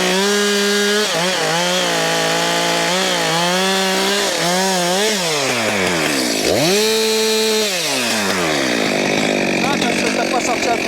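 A chainsaw cutting firewood during woodland firewood collection, the engine loud and close, pitch rising and bogging repeatedly as the chain bites into the wood, with a long deeper dip midway before revving on.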